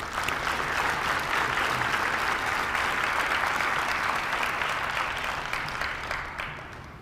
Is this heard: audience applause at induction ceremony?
yes